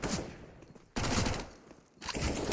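Pistol gunfire in a Counter-Strike match on the Inferno map at an ESL One tournament, heard as dense, rapid volleys of shots in three bursts at moderate, fairly faint level with no talk.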